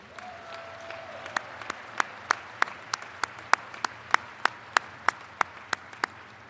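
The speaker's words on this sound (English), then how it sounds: "Let's give one giant round of applause to our graduates from other countries." At the Averett University spring commencement, an audience applauds the graduates from other countries; one nearby clapper's loud, evenly spaced claps stand out over the softer applause of the crowd.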